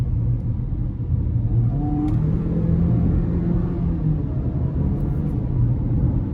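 A 2024 GMC Terrain SLT AWD with its 1.5L turbo engine and nine-speed transmission accelerates, giving a steady, loud low rumble from the cabin with a brief higher whir rising partway through.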